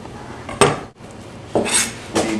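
Toasted cumin seeds are tipped into a metal cooking pot, giving a few sharp clattering hits and scrapes of metal on metal in quick bursts, close and fairly loud with no voices.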